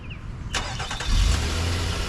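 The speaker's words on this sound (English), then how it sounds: "And it also has remote start." A 2023 Nissan Pathfinder Platinum engine cranks and catches by remote start: a sharp starter burst, then a rising low rumble settling into a steady idle, heard close with no talk.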